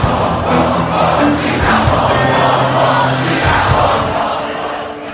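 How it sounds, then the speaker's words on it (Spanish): A crowd chants together in chorus with rhythmic clapping, loud and steady with pulsing group voices throughout, then easing slightly at the end. "El corito y las palmas."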